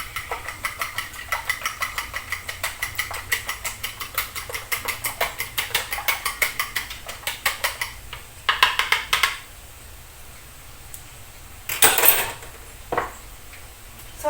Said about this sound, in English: I'm going to beat